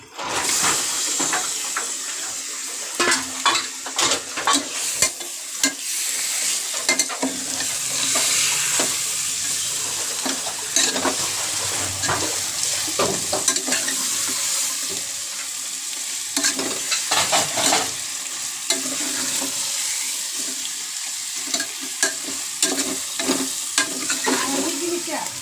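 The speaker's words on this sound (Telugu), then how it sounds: "ఇప్పుడు మటన్ వేసుకుందాం." Mutton pieces frying in a hot pan for mutton curry, a continuous loud sizzle broken by repeated spatula scrapes and clatter as the meat is stirred, with no talking.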